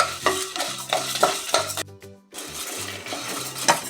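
Dried red chillies fry with spices in a pan for vankaya (brinjal) rice, with a spoon stirring and clinking against the metal over a light sizzle, steady and close, with music underneath.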